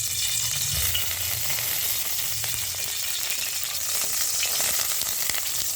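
White cooking oil heating in a wok before fish goes in, giving a steady, close, continuous sizzling hiss with faint crackles throughout, no talking.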